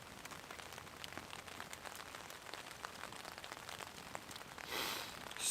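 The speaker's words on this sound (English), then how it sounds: "The crackle of the fire and the rain on the tarp" Rain patters on a tarp over a solo woodland wild camp with a fire nearby, a soft, steady, close crackle of drops with a brief louder burst near the end.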